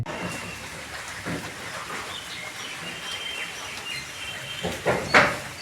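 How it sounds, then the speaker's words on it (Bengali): Soft, steady patter of light rain under a hiss of background noise, with a few louder knocks and rustles near the end. "বাড়িতে ঢোকার কিছুক্ষণ পর দেখি আবার ফিটফিট করে বৃষ্টি হতে লেগেছে"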